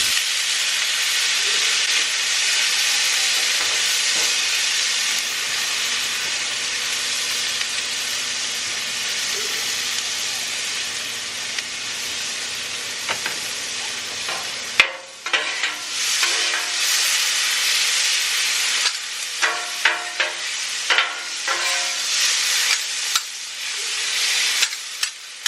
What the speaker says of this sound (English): While that's sauteing, let's go ahead and cook our corn up with street corn.